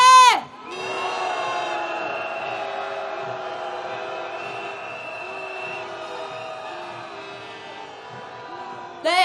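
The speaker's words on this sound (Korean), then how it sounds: "동아일보가 들을 수 있게 크게 야유 한번 보내보겠습니다." A large crowd at a candlelight impeachment rally roars out loud, sustained booing and shouting on cue, a dense wall of voices that swells after a brief pause and holds steady for several seconds before a voice cuts back in at the end.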